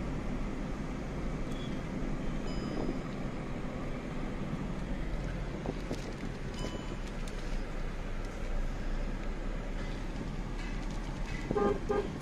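Car horns give short scattered toots in a traffic jam, some near and some farther off, over a constant low rumble of idling and crawling vehicles.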